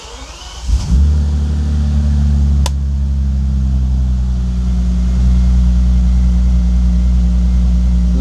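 A Bentley engine under fault diagnosis cranks and fires about a second in, then settles into a steady, loud idle hum with a low droning rumble that holds to the end, with a brief click partway through.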